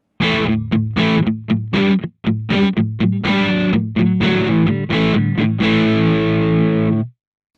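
Distorted electric guitar on the front pickup through a Valeton GP-5 amp modeler, playing a riff of short chopped chords, then a sustained ringing chord that cuts off, loud and close.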